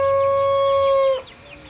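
Poultry on a rural family property in the Philippine countryside, a rooster or hen giving one sustained, loud, tonal call up close that breaks off sharply, followed by faint clucking and ambient farmyard noise.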